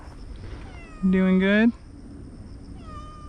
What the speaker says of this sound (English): Hi, street cat.